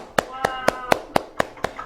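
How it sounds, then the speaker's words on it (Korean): Seven evenly spaced sharp hand claps ring out at a steady rhythm in an Esperanto language class, close and fairly crisp, with a faint tonal voice lingering underneath between the claps. "우리 박수 한번 쳐줄게요"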